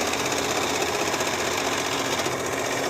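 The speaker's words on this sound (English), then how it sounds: "So now I just got to sew these bits together" A sewing machine runs steadily, stitching together fabric pieces cut from worn-out pants, its fast even whirring continuous and close for the whole stretch with no voices.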